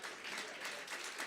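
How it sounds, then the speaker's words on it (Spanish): Brief, moderately loud applause rises from a church congregation for the Salvadorans present, steady dense clapping with no pauses. "Le damos un aplauso a todos los que somos de El Salvador"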